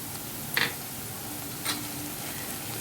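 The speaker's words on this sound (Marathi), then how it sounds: "यामध्ये मी सोया सॉस घालत आहे" Soy sauce splashes into a hot pan of capsicum and cabbage for chicken Manchow soup, giving two sharp sizzling bursts over a steady frying hiss, with no talking.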